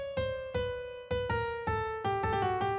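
A short input melody played for AI music generation, with single plucked or struck notes in a steady, even rhythm, each ringing clearly and decaying, at moderate level with no voices.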